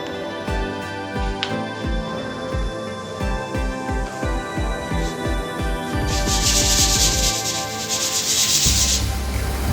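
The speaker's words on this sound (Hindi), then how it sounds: "अब इसको हम रेगमाल लगाएंगे।" Sandpaper rubbed by hand over a painted counter: steady rhythmic back-and-forth scratching strokes, close and distinct, speeding into faster rubbing toward the end.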